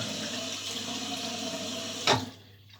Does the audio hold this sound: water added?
yes